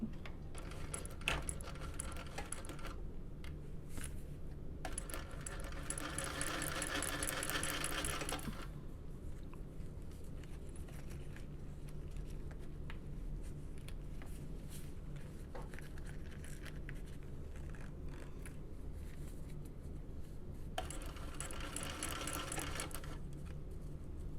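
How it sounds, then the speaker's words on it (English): Sewing machine stitching a 3/8-inch seam on a small bucket bag, running in several bursts with a steady rapid whir, loudest in a long middle run and again near the end, separated by quieter pauses of fabric handling. "we'll sew that at 3/8 of an inch, and then you can trim away some things and then top stitch it"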